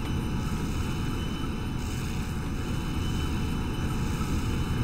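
Aircraft flying in the video game Forsaken: a steady, dense engine drone filling the scene at constant loudness, with no pauses and no voices.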